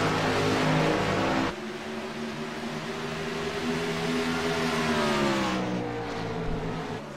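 Race cars on a track, a loud engine drone rising and falling as cars accelerate off a turn, with a clear shift partway through and several engines layered together.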